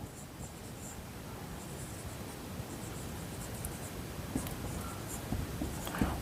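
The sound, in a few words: writing on the board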